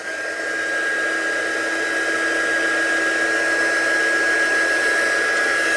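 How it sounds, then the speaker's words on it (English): A heat gun blows a steady, loud whooshing stream of hot air with a thin whine running through it, drying freshly made card-making characters at a crafting table, continuous for the whole stretch with no talking. "I'm going to give them a quick blast with a heat gun just so I can dry them off"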